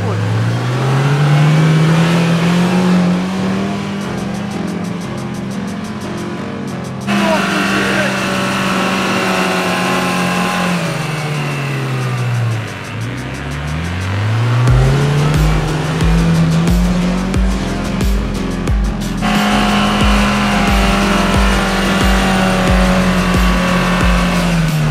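A Lada Niva engine revs hard and strains while climbing a steep hill, its loud droning tone rising and falling in several long surges, with tire noise and voices in between.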